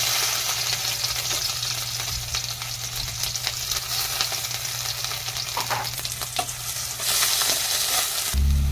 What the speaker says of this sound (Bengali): আমি এখানে পেঁয়াজ একটুখানি ছুলে রেখেছিলাম, সেটা আমি দিয়ে দিলাম